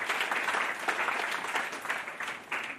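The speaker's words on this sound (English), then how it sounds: "Round of applause for Jamie," A church congregation claps for Jamie, a steady, fairly soft wash of many hands heard from a distance with gentle rises and dips, and no one speaking over it.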